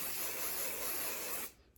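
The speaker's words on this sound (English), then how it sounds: "So this is the Kevin Murphy Session Spray Strong Hold." A single close hiss of Kevin Murphy Session Spray Strong Hold hairspray, one continuous burst lasting about a second and a half that cuts off abruptly.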